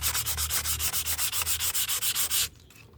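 Old wooden restaurant chair sanded by hand, a rhythmic series of about fourteen quick rasping strokes, close and loud, stopping abruptly near the end.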